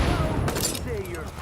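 Gunfire in the video game The Division strikes supplies, a loud broadband burst of shots rising mid-clip over steady game noise and tonal effects.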